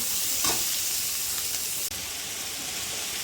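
Tomato and ginger-garlic paste sautéing in a hot pan for a goat head curry, a steady close sizzle and hiss with a brief stir early on, continuous and without speech.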